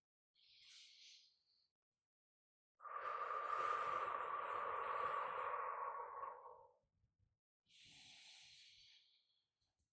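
One long, close, breathy exhale lasts several seconds during a postpartum exercise, framed by faint softer breaths before and after in otherwise quiet surroundings.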